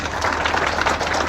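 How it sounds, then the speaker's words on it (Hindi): Schoolchildren at a police public school farewell applaud together in a brief, dense, steady burst of clapping from a crowd, close and fairly loud. "बच्चे अपने आप के लिए जोरदार ताली बजाएंगे।"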